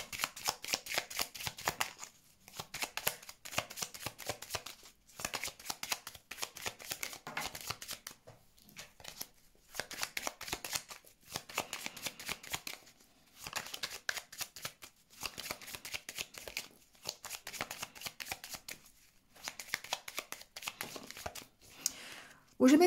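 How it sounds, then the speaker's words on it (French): Lenormand cards being shuffled over and over in quick riffling bursts, close and crisp, with short pauses between rounds. "on va faire un tirage en 9 cartes avec le Lenormand"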